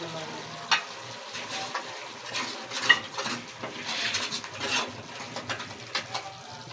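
Masala roasts in a pan for an aloo gosht shorba while a spoon stirs it, giving irregular scrapes and light metallic clinks over a soft, steady sizzle.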